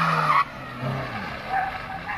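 Citroen Saxo VTR spinning its wheels, a brief tyre squeal and skid heard at a distance, fading quickly into road noise.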